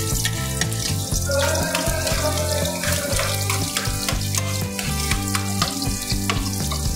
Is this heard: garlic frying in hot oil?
yes